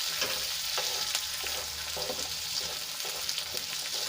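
Capsicum and vegetables sizzling in a pan for homemade pizza topping, a continuous close frying hiss with faint rhythmic stirring scrapes.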